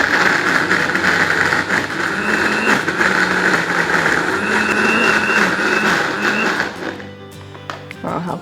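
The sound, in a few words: kitchen blender grinding soaked dried shrimp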